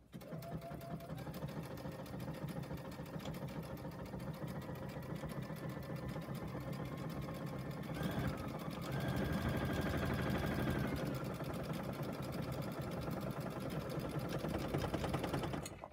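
Steady mechanical whirring of a Solaris/Destiny embroidery sewing machine running continuously through a stitch pattern without a thread cutter, loud and close, with a brief change in tone midway and no talking.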